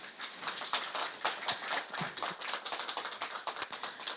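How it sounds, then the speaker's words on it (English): An audience at a panel discussion on food system sustainability gives a short round of scattered, crisp hand claps, fairly light and uneven in rhythm. "A bit of applause there, people."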